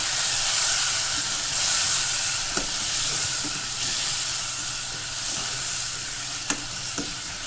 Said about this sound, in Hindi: इसे भी मैं अच्छी तरीके से भून लूँगी।